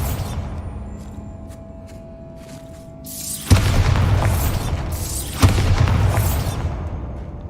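The Bombarda blasting spell in the wizarding game Hogwarts Legacy sets off two loud, booming explosions about two seconds apart. Each bursts sharply and rumbles away, and a quieter passage of faint magical tones comes before them.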